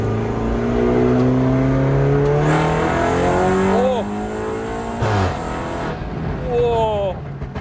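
A BMW F30 sedan with an automatic gearbox, driven on a race circuit, revs and accelerates loudly nearby, its engine note rising and dropping through shifts as a person speaks over it.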